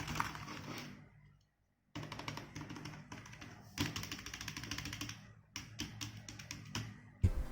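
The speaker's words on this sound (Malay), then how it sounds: "Jadi saya sertakan test untuk bunyi keyboard ini." An AVF Airstrike gaming keyboard clatters with quick, fairly quiet keystrokes in steady bursts, broken by a short pause, close and without talk.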